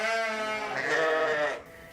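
A sheep bleats loudly and close at a university sheep and goat center holding Suffolk and Dorset ewes, hair sheep and Boer goats; one long wavering cry with no voices over it.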